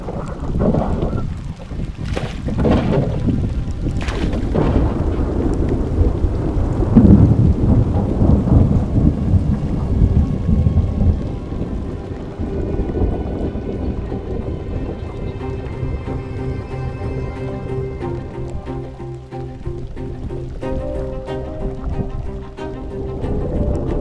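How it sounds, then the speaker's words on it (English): Steady wind roars across open lake wilderness on a miserable day, a continuous broadband rush with gusty swells and low rumble, no voices. "Well, the wind is back."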